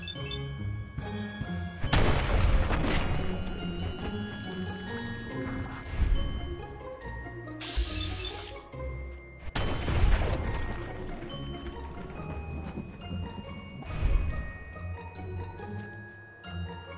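Gunshots in Fallout 4 aimed at a radstag, a few heavy, booming reports spaced several seconds apart over a steady ambient game soundscape with ringing tones.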